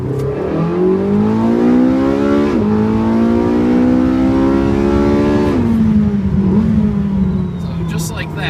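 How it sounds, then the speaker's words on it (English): A Porsche 918 Spyder is floored from about 30 mph in second gear. Its engine note climbs steadily and loudly for several seconds, shifts with a brief dip, then keeps pulling, heard close from inside the car. "So just rolling here in 2nd gear, put it back in 2nd, about 30 miles an hour, and I'll put my foot to the floor."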